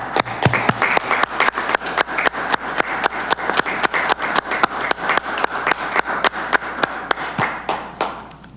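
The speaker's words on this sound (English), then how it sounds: "Everyone turn off your mics and clap." Applause at a city council meeting in St. Catharines: sparse, evenly paced claps from a small group, heard as distinct sharp hits throughout before fading at the end.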